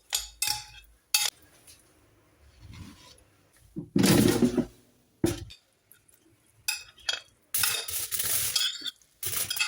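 Corn being mixed with red chili, chaat masala, salt, olive oil, lemon juice and oregano in a bowl, heard as intermittent spoon clinks and scraping stirs against the dish in short irregular bursts with quiet gaps between.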